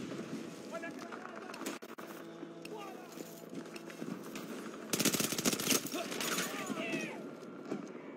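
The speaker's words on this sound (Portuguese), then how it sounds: "Estão atirando em mim." Video game gunfire in a combat scene, with a dense rapid burst of automatic fire in the middle amid ongoing battle noise and scattered shots, heard under excited talking.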